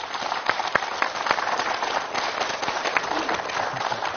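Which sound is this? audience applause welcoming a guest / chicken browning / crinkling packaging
audience applause welcoming a guest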